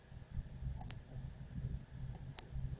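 A computer mouse clicks close by, two pairs of sharp clicks about a second and a half apart, over a faint low background hum.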